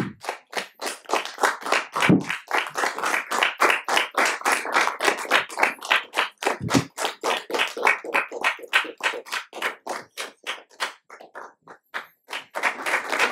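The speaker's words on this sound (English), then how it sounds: "let's hear a big round of applause for Mr. Ashish Kothari Ji" A lecture audience claps for a guest speaker at an evening session on radical ecological democracy, dense rapid applause that stays loud and steady throughout with no voices over it.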